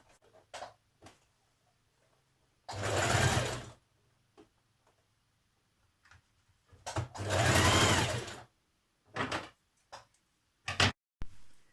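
A domestic sewing machine stitches a New Look 6871 blouse sleeve into its armhole in two steady bursts of a few seconds each, with light clicks and handling noises in between.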